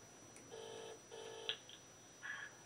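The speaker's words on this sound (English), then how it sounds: "I'm ringing Yu Tai Choi, my lawyer, QC." Telephone call being dialed to a lawyer's office: two near identical bursts of steady dual-tone dialing, then a shorter higher beep, a couple of small clicks and a final tone, fairly faint and with no talking.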